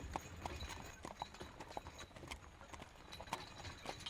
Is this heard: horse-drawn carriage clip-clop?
yes